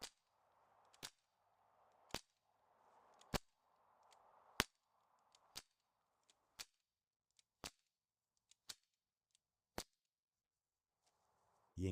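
A series of about ten sharp, isolated air gun pellet shots, each a crisp crack striking a target, spaced roughly a second apart, with faint mechanical hiss between the early shots.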